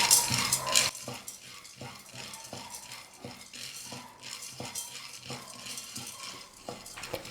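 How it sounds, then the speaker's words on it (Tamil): Roasted gram (pottukadalai) is stirred in a kadai over a medium flame, a spoon scraping and rattling the dry lentils in repeated rhythmic strokes. "இந்த பொட்டுக்கடலையை கடாயில் சேர்த்துட்டு நல்லா வறுத்துக்கலாம்"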